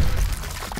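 Water is poured in a short, close splash that lasts under a second.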